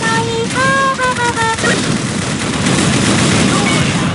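Automatic gunfire from an Unreal Tournament 2004 deathmatch running the Ballistic Weapons mod. A continuous loud, dense barrage of shots follows a brief electronic, voice-like game tone at the start.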